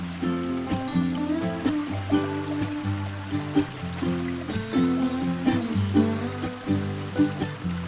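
Cold freshwater spring at a secluded Algoma Crown Land camp, water running and trickling continuously at steady volume with no voices.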